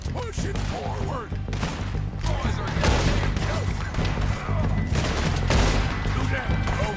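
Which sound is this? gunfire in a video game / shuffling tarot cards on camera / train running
gunfire in a video game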